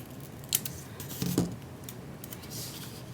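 Scissors snipping a paper sticker for a planner page, with a couple of short close cuts and light paper rustling in a quiet room.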